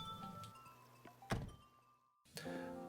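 A house door opens in Animal Crossing: New Horizons, a soft thunk among quiet game chimes, followed after a brief hush by a brighter tone.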